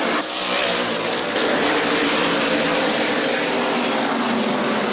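Outlaw late model race cars charge through turn three at Kalamazoo, a dense, loud, continuous engine roar from the whole field.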